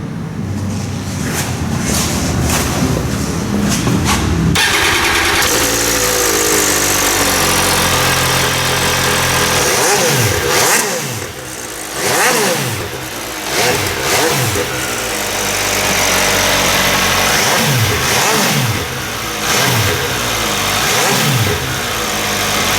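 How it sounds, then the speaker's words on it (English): An MV Agusta Brutale 800RR motorcycle, its 800 cc three-cylinder shared with the F3 800, fires up in a showroom and revs hard through repeated sharp throttle blips, loud and close, with no talk over it. "so this is the sound of the BRUTALE 800RR."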